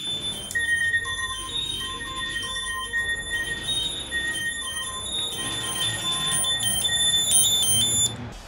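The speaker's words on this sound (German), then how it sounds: "Oh, Feuerwehr, Alarm." A fire alarm beeps and tones repeatedly in a room, moderately faint, with a steady electronic pattern over background noise.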